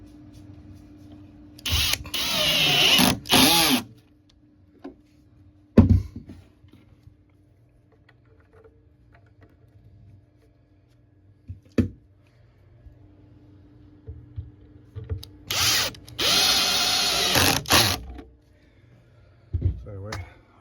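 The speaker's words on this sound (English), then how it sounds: "After all holes are drilled, you can put some screws in it." Power drill driving screws into a DIY wooden queen bed frame, two loud bursts of a few seconds each with whirring and ratcheting, separated by quiet stretches with faint clicks and knocks.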